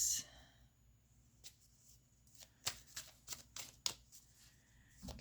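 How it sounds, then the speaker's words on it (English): Tarot cards being shuffled by hand, soft repeated riffling and slapping bursts in an irregular rhythm, close and fairly quiet, with faint breathy voice sounds between them. "I'm just going to keep shuffling."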